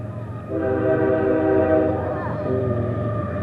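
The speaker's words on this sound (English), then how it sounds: "Choo-choo train going by." A train rumbles past close by with a steady roar and a sustained horn-like tone, loud and continuous.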